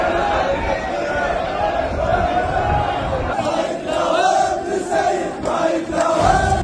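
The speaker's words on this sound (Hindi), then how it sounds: "गुस्साई भीड़ जो है वो दूतावास के अंदर घुस गई, वहां पर नारेबाजी की" An angry crowd of protesters chants and shouts slogans at the Swedish embassy, a dense, loud roar of many voices with rising surges of yelling throughout.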